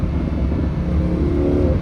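Lamborghini Huracan engine held near 4,500 RPM, a loud, steady, close throaty rumble with a rising tone toward the end; distinct pops and crackles are not clearly picked out.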